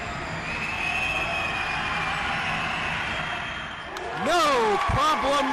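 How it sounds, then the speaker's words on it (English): At a boys' high school basketball game, crowd noisemakers wail and whoop loudly near the end, rising over a steady roar from the crowd in the gym. "The noisemakers have come out in full force."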